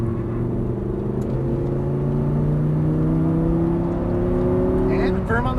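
A 525 hp Audi R8 V10 on a track lap: a loud, steady engine note climbs smoothly in pitch under acceleration and then drops sharply at the end as the driver brakes, heard from inside the car.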